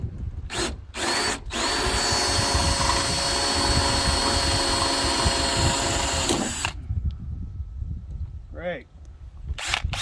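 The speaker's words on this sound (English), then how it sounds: "That's a Harbor Freight drill bit." A power drill with a Harbor Freight bit bores into a Freightliner truck door, a steady loud whine lasting about six seconds between brief bursts, then cutting off, with talking during and after.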